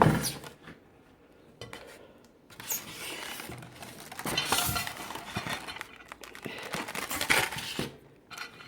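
A glass microwave turntable plate and a pan being unpacked, giving scattered clinks, clatters and rustles of packaging at close range, with no talking.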